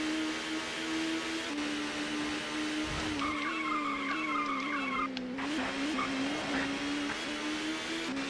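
Race car tires squeal steadily through a sharp left-hander at Knockhill in the video game TOCA Touring Car Championship, the engine droning underneath as the skid holds for several seconds.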